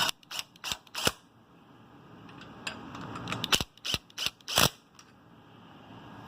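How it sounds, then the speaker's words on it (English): Engine head bolts go into a Predator 212 small engine with a run of quiet, sharp metallic clicks and taps, irregularly spaced, close by and faint. "So let's put our bolts in."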